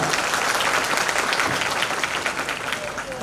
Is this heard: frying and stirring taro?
no